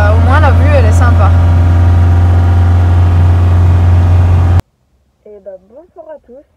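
A camper van engine idles with a steady low drone and constant hum, loud and near, cutting off abruptly partway through; a voice speaks over it, and the talk continues briefly after the engine noise stops.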